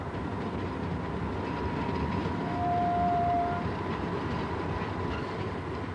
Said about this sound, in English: the little diesel battlers dragging their load to the mill